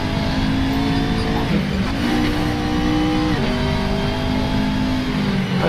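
LaFerrari supercar in the Assetto Corsa racing simulator roars loudly close up, revving high and dropping at each gear change in a repeating sweep, with faint tyre squeal under the engine.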